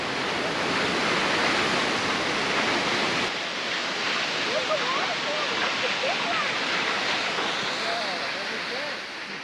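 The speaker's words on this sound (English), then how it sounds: "Fitzroy Falls, 81 metre drop, and apparently 640 metres above sea level." Fitzroy Falls, an 81 metre waterfall, roars as a loud, steady broadband rush of falling water that fills the scene continuously, with a few bird calls briefly audible over it.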